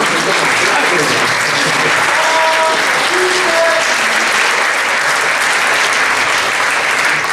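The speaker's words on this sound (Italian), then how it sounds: "Quindi un bel applauso a queste giovani scrittrici, no?" An audience at a literary prize ceremony applauds young writers with loud, dense, continuous clapping that carries on for the full stretch, a few faint voices mixed in beneath it.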